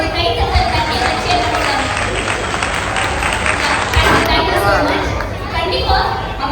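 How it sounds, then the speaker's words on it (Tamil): Audience applause at a Mother's Day event in a BBQ lounge, continuous clapping and crowd noise lasting throughout, with voices mixed in. "அவங்களுக்காக ஒரு கைத்தட்டல் கட்டி வச்சு"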